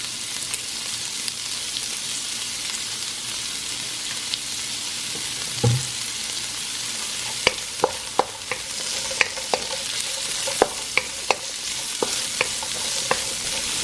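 Pork and carrots fry steadily in olive oil for pansit bihon, a continuous sizzle with sharp scrapes and clinks of a utensil stirring the pan, one low thump midway, then a run of distinct clacks.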